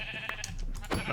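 A Minecraft sheep bleats once, a short quiet bleat over a background hum in the Age of Engineering modpack.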